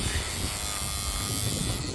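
A small electric shaver buzzing steadily while clipping a patch of hair on a cow in a chute before freeze branding, a continuous close whine and hum with no pauses.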